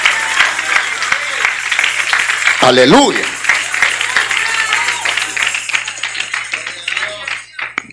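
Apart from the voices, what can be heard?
church congregation applauding in praise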